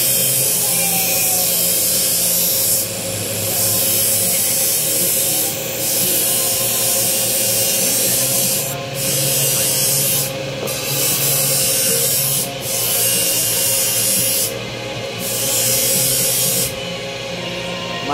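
A knife blade is drawn back and forth across a whetstone in steady continuous strokes, close and fairly loud, with short pauses between passes and no talk.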